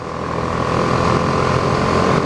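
A BMW G310R small-engine motorcycle running steadily while being ridden, a continuous engine drone with a droning hum and wind, loud and close, with no talk.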